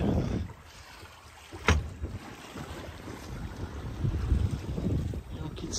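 Wind buffets the microphone on a sailboat running dead downwind in about ten knots of breeze, a low rumbling rush with water sloshing along the hull and one brief sharp knock partway through.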